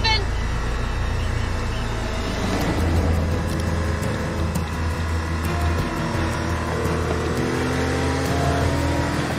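A car driven fast on a TV drama, a continuous loud engine drone with shifting revs that holds steady throughout, overlaid with music and faint voices.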